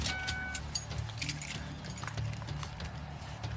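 Car keys jangle in short, faint metallic clinks as they are passed over during a roadside traffic stop, with a low vehicle rumble underneath.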